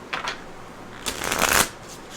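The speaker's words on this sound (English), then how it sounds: "So I'm going to shuffle these cards a couple more times here" Tarot cards being shuffled: a couple of quick riffles, a pause, then a longer, louder riffle that builds and stops.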